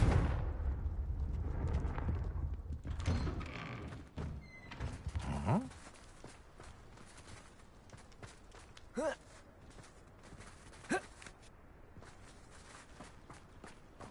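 Blasts and impacts from the explosive Confringo spell in the game Hogwarts Legacy: a loud rumbling burst at the start that fades, followed by scattered thuds, footsteps and faint magical effects.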